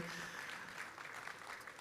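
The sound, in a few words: congregation applause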